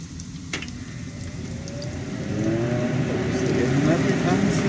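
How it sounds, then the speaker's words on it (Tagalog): A kitchen exhaust fan roars steadily while corned beef with potatoes is sautéed, making a constant, fairly loud whooshing drone throughout. "medyo maingay kasi nakandar yung exhaust fan"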